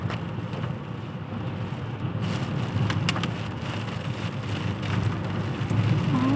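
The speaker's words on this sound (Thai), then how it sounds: "ฝนตกมากกว่าหิมะ" Steady rain falling during a storm, a dense continuous patter with faint scattered drips and a low rumbling undertone throughout.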